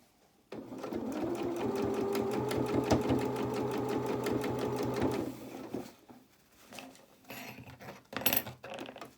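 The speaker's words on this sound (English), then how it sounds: "Just sewing about an inch at a time and then stopping, relining it up." Sewing machine stitching ribbon and lace onto a doll's twirling dress in one sustained close run of about five seconds, followed by quieter handling clicks and rustles.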